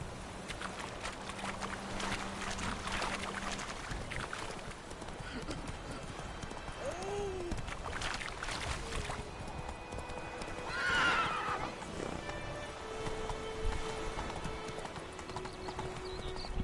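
Horse hooves clip-clop and a horse neighs in the video game The Witcher 3, a steady clatter of footfalls with a clear whinny partway through, under game ambience.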